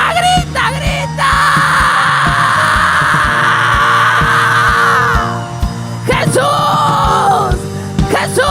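Church congregation shouting, yelling and wailing together in fervent worship, a loud sustained roar of voices for several seconds that dips briefly and then surges again.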